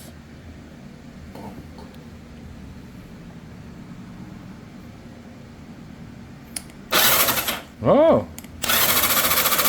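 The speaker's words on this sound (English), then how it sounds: "so the motor spins" A 1987 Yamaha Radian motorcycle engine is turned over by its motor: after quiet handling sounds and a brief voice, loud whirring bursts start near the end, one rising in pitch as it spins up, then a sustained spin.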